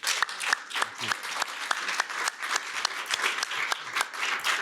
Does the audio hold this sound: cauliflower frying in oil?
no